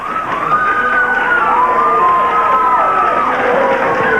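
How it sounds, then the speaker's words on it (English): Wrestling fans clapping and cheering at a 1984 Memphis wrestling event, a steady loud crowd roar with high whooping voices rising and falling throughout. "all of the fans clapped and everybody cheered, and they're starting to do it again"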